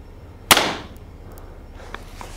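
A PSE Fang HD compound crossbow fires once at a target, a single sharp loud snap with a quick decaying tail, then quiet with faint small noises after.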